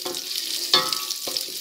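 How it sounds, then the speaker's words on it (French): Onions sweat in a large saucepan, giving a soft continuous sizzle broken by two sharp scraping stirs of a utensil, close by and without talk. "je vais venir suinter mes oignons"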